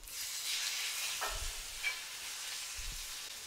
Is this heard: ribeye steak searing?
yes